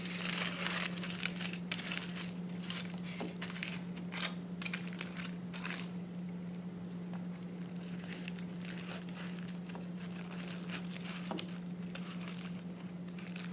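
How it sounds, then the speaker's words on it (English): A strip of aluminum foil is folded and crumpled up close, giving bursts of crisp crinkling and crackling over a steady low hum, with no talking. "I'm going to repeat the same thing for the other strip of aluminum foil."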